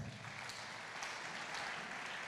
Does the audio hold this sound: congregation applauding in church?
yes